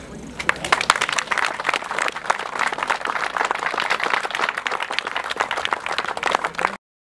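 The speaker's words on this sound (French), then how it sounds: "Nous pouvons l'applaudir" A municipal audience applauds the town secretary, steady overlapping hand claps with sharp individual slaps standing out, continuing for several seconds and then cutting off abruptly.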